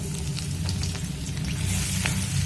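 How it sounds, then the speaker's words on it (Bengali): Chopped ginger fries in hot oil for dhaba-style chilli chicken, giving a loud, steady close sizzle with scattered crackles and no speech. "এখানে আমি এই তেলের মধ্যে দিয়ে দেবো আদা কুচি"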